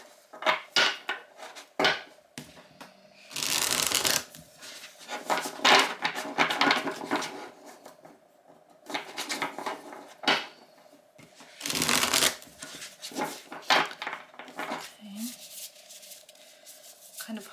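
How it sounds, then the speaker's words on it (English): Tarot cards being shuffled in repeated riffling bursts, close and fairly loud, with short pauses between rounds and a low steady hum underneath. "Kind of hard to shuffle cards for you"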